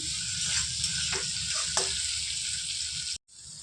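Capsicum, tomato and a cashew-poppy seed paste sauté in a pan for paneer posto, a close, steady sizzle with a few stirring scrapes before a brief cut near the end.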